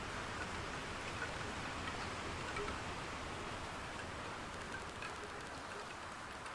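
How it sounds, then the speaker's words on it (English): Steady, dense rain hisses continuously in a sailing simulator video game, an even wash of drops with no breaks or voices. "It's probably just the rain."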